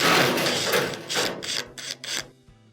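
Metal Phillips screws being worked loose from a dryer's frame bracket, a run of short scraping, clicking bursts, close and fairly loud, with no voices.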